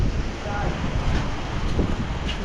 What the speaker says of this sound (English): It's raining, windy, dust flying everywhere.